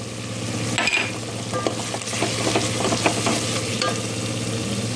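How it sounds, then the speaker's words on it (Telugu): Garam masala, chicken masala mix, chilli powder and a little ghee frying in hot oil for homemade mushroom biryani, giving a steady, close sizzle with stirring scrapes and a few sharp clinks throughout, no talking. "గరం మసాలా, చికెన్ మసాలా మిక్స్ వేసి బాగా నూనెలో వేయించాలి."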